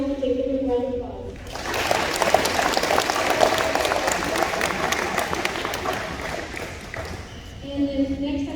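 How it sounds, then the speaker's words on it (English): Applause from the audience at a junior high school awards ceremony, a dense burst of many hands clapping that swells in after a spoken announcement and carries on steadily for several seconds before talk resumes. "give him a round of applause"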